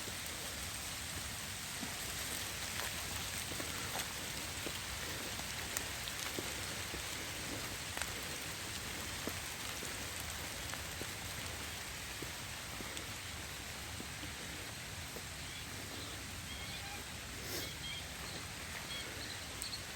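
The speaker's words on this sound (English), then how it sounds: "It started raining" Steady rain falling and pattering on surfaces by a lake in Sanjay Van, a dense continuous hiss with scattered close drops.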